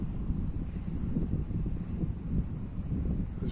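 Steady, strong wind on a slope buffets the microphone with a low continuous roar and gusty rumbling throughout.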